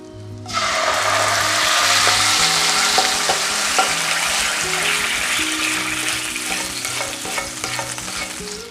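Hot shallot tempering poured into a pot of Kerala pumpkin curry sets off a loud, steady sizzle with stirring clatter, the bubbling crackle sustained close up throughout, no talking.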